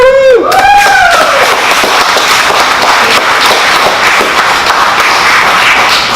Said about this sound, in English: tremendous applause to follow